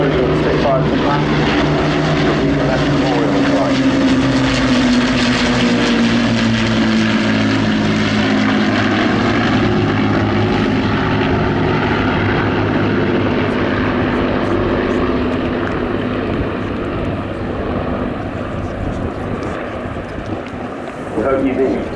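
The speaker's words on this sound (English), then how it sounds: "as that symphony and engines subside slightly, the hairs in the back of my neck are still standing up" Piston-engined Lancaster bomber, Spitfire and Hurricane flying past together in a formation flypast, a loud continuous propeller drone with layered engine tones that shifts in pitch as the aircraft pass and then slowly recede.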